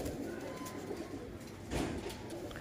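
A female Pakistani dab pigeon coos softly nearby, low murmuring calls with one fuller coo midway over a quiet background.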